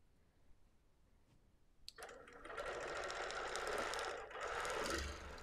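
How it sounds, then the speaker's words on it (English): Sewing machine doing slow, careful free motion quilting: after a quiet start, a steady close whirring stitch rattle begins and runs continuously, with a brief dip near the end. "I'm quilting so slowly and carefully now"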